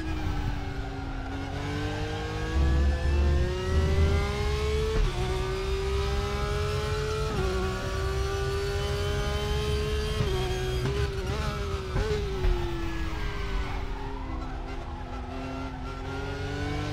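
A Porsche race car engine heard from inside the cockpit in the RaceRoom racing game, droning loudly and continuously as revs climb and fall through gear changes, with brief dips and a faint tire squeal.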